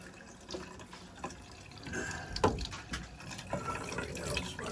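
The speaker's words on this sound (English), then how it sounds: "And here comes the water. Just let that run for a bit," A shower runs cold water into a cooler, a steady soft hiss and splash with small irregular sloshes and drips, fairly quiet and close.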